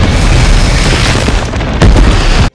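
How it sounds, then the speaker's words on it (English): A detonated device explodes in a loud, sustained blast that rumbles for over two seconds, with a second surge of debris and roar near the end before cutting off abruptly. "his device has successfully detonated"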